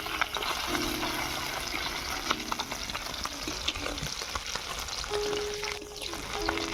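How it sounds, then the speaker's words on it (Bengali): Puti fish, a small pool barb coated in salt and turmeric, sizzle in oil as the second side fries: a steady, close crackling hiss, with stirring and utensil clinks on top and no talk. "আবার একটা সাইড ভালো করে ভেজে নেব।"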